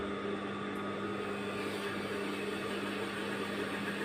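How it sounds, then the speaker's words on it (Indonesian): A high-speed straight-stitch sewing machine runs slowly under gentle foot-pedal pressure, giving a steady, close motor hum with a faint whirr throughout and no voices. "Nah, jalankan mesin pelan begini."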